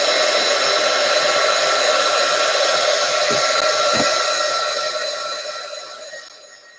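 A hair dryer blows steadily and loudly over a watercolor painting, a constant close whir that winds down as it is switched off near the end.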